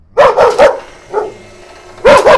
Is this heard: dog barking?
yes